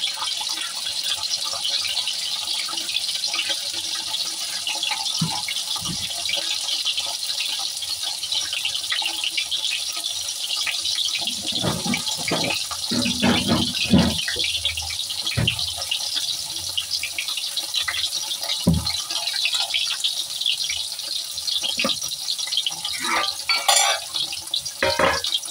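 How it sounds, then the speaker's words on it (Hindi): Paneer pieces fry in a pan with a steady, hissing sizzle, broken midway by clattering and stirring knocks from the pan. "पूरा फ्राई कर लेते हैं।"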